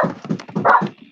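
Dog named Leto barking in short bursts, several loud, close yaps in quick succession with a whiny edge, heard on its own.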